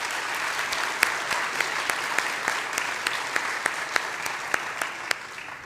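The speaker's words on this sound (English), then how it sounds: "I think they all deserve another round of applause." Audience applause for students at an eighth grade graduation ceremony, a moderate, even patter of many hands clapping continuously, with a few sharper individual claps standing out.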